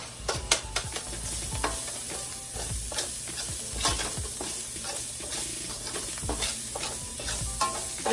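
Walnut and cauliflower taco filling with jalapenos sizzles steadily as it browns in a pan, with frequent scraping stirs breaking through the constant crackle.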